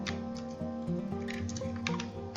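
A login ID being typed on a computer keyboard: light, scattered key clicks sitting over a steady tonal hum, soft and close, with no one speaking.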